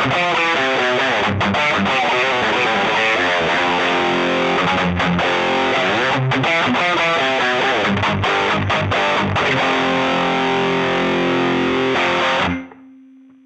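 Distorted electric guitar played through a Hotone Ampero II Stomp multi-effects unit on a maxed-out preset with the EQ pedal engaged. Loud, saturated chords and riffs ring continuously, then cut off near the end, with no talking.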